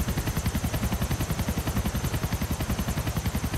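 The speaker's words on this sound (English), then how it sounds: "Helicopter has also arrived." A police helicopter from Grand Theft Auto IV hovers close, its rotor thudding in a fast, even rhythm with a constant high whine, loud and steady with no talk over it.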